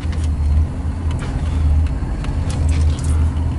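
A 1956 Chevrolet Bel Air on a test drive, heard as a steady low engine rumble with road noise from inside or near the car, holding fairly loud and even throughout.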